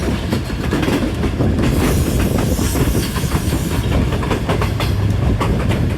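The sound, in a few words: train moving off towards Rawalpindi in heavy rain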